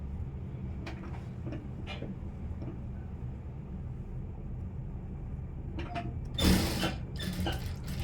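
A sewing machine stitching a princess cut blouse, a steady close mechanical whir with light ticking, ending in a louder clatter of handling noise.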